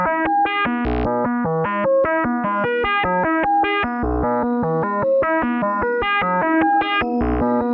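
A synthesizer plays a rapid stepping sequence of bright, distorted notes with deep pulses underneath, a filter bank band exciting the reverb, washed in reverb and echo, continuous throughout.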